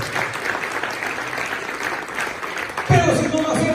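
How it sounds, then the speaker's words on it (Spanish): A church congregation claps during a Spanish-language sermon, steady crowd applause running for a few seconds before a voice begins speaking over it. "Denle palmas a Él."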